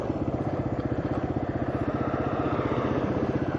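A motorcycle engine runs at steady revs, a close, even, rapid pulsing thrum with a mechanical clatter and no talking.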